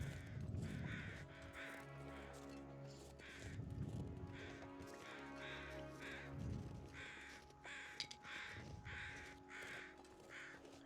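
Crows caw repeatedly in The Long Dark, a run of harsh calls spread across the stretch over a steady low in-game ambience, with no talk.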